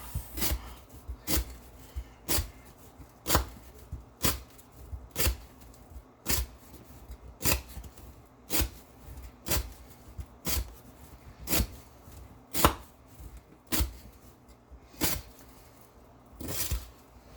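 A Chris Reeve Umnumzaan knife with an S35VN steel blade slicing through rope again and again, sharp crisp cuts coming at a steady rhythm about once a second, close and clear, with no talking.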